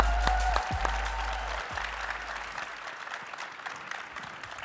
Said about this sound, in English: Let's give him a better round of applause than that